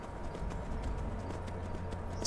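Horse hooves clip-clop in a steady, moderately quiet walking rhythm in Skyrim, with faint background ambience.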